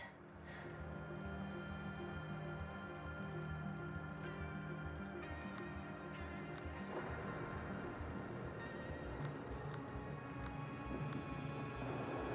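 Rainstorm in the video game The Invincible: a dense, steady hiss of rain with a low rumbling bed, sharp ticks and crackles scattered through, continuous and even throughout.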